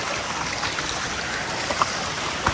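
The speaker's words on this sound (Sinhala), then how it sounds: "බාන වතුර පාරවල් සක්‍රිය වෙලා තියෙන්නේ වැස්ස නිසා" Rain-swollen mountain streams rush beside a forest trail on the Sadagalathenna route to Sri Pada, making a steady, even wash of flowing water with faint trickles and no voices.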